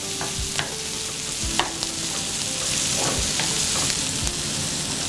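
Capsicum and tomato fry on a tava with a continuous close sizzle and scraping stirs, several sharp spatula knocks against the pan punctuating the steady crackle.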